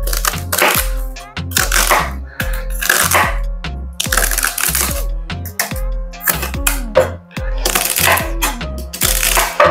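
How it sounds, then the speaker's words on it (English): A knife chops celery stalks on a cutting board in quick, steady, close thuds and sharp taps, about two strokes a second with brief pauses. "So we need to cut up our celery."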